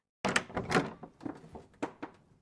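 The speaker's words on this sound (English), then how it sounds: "I watched my mother open the door." A door opens in a quiet indoor room, heard as a short series of close knocks, clicks and thunks that fade over a couple of seconds.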